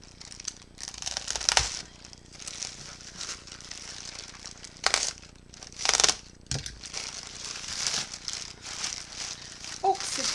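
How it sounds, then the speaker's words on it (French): A large plastic AliExpress shipping bag is torn open and crinkled, with repeated sharp ripping bursts and rustling crackles at close range, fairly quiet overall. "Il me reste juste le gros sac à ouvrir."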